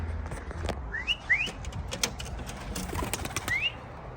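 A racing pigeon from a 370 km auction race arrives at its loft, with a few short bird whistles and faint coos over quiet outdoor background.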